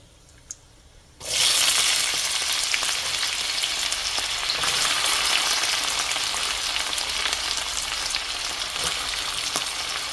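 Chicken fried in a pan, coated in spice paste, sizzles loudly after a brief quiet start, a steady dense crackle with no talking.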